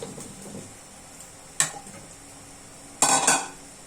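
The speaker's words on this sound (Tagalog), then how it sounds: "At ilagay na rin natin ang ating sayote." Chunks of chayote go into a pot of chicken stewed in coconut milk, giving two short clattering bursts of utensil against cookware over a faint low simmer, with no voices.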